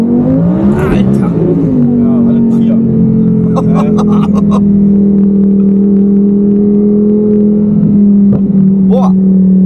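A 1200 hp biturbo Audi R8 spins all four wheels under hard acceleration, its loud, steady engine drone holding a sustained pitch while people talk over it.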